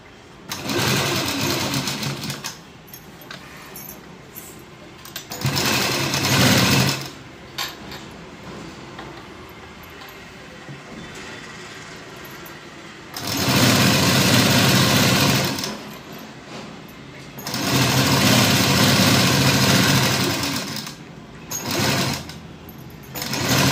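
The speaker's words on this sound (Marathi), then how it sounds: "इथून पॉकेटला यायचं शिलाई मारत मारत।" An electric sewing machine stitches a pocket onto a gown in loud, steady whirring bursts. Each burst runs a few seconds and stops between stitching passes, with quieter handling pauses in between.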